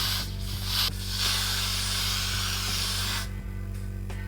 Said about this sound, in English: what I'm doing is just spray some Got To Be.